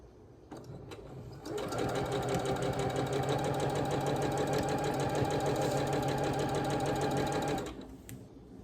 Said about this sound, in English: We're sewing down the middle, corner to corner, this way now.